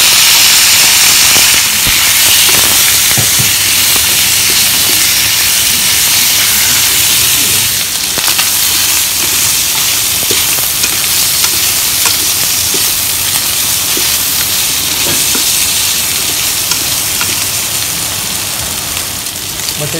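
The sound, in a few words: sliced pork frying in a pan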